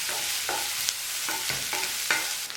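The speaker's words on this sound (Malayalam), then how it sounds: "അങ്ങനെ വഴറ്റിയെടുക്കുക." Baingan bharta mixture sautéing in a pan, with a steady sizzle and regular stirring scrapes about every half second, close and moderately loud, no voices.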